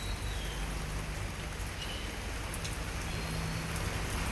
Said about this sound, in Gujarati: હજુ વરસાદ ચાલુ જ છે. આખી રાત વરસાદ ચાલુ રહ્યો છે.